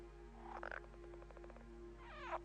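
A green frog calls at night from a pond, a quick burst of rapid pulsed croaks followed by a second rasping call, with a steady low hum underneath.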